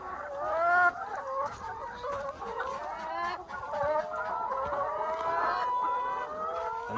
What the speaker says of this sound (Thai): ไก่กำลังไข่เพิ่มขึ้นเรื่อยๆแล้วฮะ